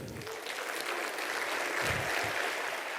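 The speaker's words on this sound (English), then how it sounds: "Let's give all of our incredible award honorees a huge round of applause here tonight." Sustained crowd applause at an awards gala, a dense steady wash of clapping from a large audience that holds at an even level throughout.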